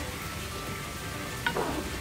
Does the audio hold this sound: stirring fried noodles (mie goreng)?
yes